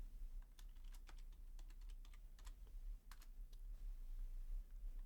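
Soft, quiet typing on a computer keyboard, scattered clusters of light key taps over a low background hum, with no one speaking.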